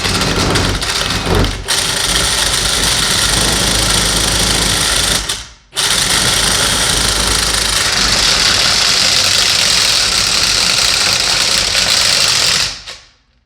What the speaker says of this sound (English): That's FlexShaft drain cleaning at its finest.